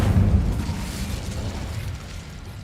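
Incendio fire spell cast in the Hogwarts Legacy video game, a loud low booming burst that fades into a rumbling roar over about two and a half seconds, with no talking.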